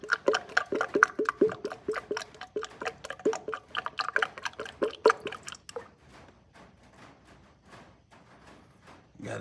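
Motor oil poured into the engine of a 2021-2023 Ford F150 2.7 EcoBoost pickup, with a close, rapid glugging and dripping rhythm that then thins to a softer trickle of sparse drips, without talk.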